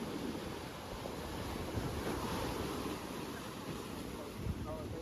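Ocean waves and surf break along the seashore at Dwarka, a steady broadband wash with gusty wind buffeting the microphone, continuous and fairly close throughout.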